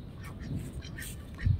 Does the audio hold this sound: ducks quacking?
yes